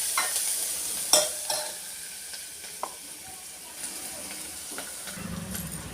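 Coriander and turmeric frying in a pan, giving a steady low sizzle with scattered scraping stirs and a few sharp clinks, close and fairly quiet, with no talk.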